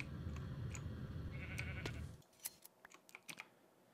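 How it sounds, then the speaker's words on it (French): Sheep bleating in the Minecraft FTB modpack: a faint, wavering bleat heard over a low droning background, then a run of crisp close keyboard clicks as the background drops away. "Un petit mouton qui a spawn devant chez nous."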